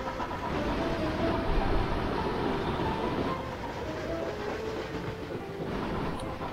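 Freight trains hauling coal and iron ore run in the video game Chris Sawyer's Locomotion, a steady rolling rumble with faint rail clatter holding at an even, fairly loud level throughout, with no voices.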